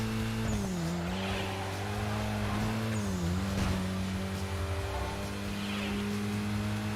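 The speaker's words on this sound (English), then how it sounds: "Oh, that's a car." A race car's engine in Midnight Club LA Remix, a street-racing video game, hums loud and steady, its pitch dipping and rising twice as it shifts, with faint tire noise and no talking over it.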